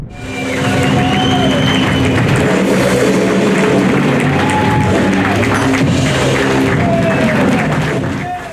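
Loud, sustained applause from an audience of soldiers fills a bomb shelter in Kryvyi Rih after an orchestra's concert, with dense clapping and crowd voices holding steady for several seconds before easing slightly.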